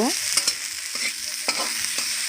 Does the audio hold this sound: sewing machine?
no